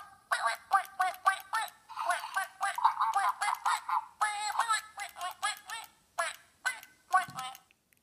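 A Little Live Pets talking toy mother duck with baby duckling gives a rapid series of close, electronic quacks and chattering squawks in bursts, alone with no talk over them.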